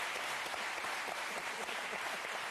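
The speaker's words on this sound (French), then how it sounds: "Est-ce qu'on peut les applaudir quand même?" A French television studio audience on a Sunday talk show breaks into steady, dense applause, a continuous wash of clapping at moderate distance.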